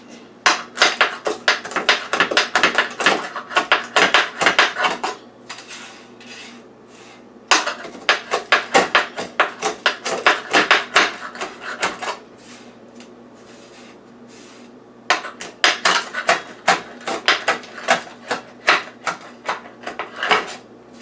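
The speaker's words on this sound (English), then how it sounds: "Alright, so let's cut it up." Cooked bacon being chopped with a knife on a cutting board for a breakfast bacon, egg and cheese pizza, with rapid clattering blade strikes in three bursts separated by short pauses, close and loud.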